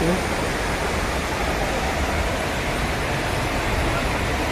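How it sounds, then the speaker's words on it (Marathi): Devkund waterfall with water pouring forcefully from above, a loud, steady, unbroken roar of crashing water that fills the whole clip with no voices. "समोर मोठा धबधबा आहे आणि वरून जोराजोरात पाणी पसरवायचं"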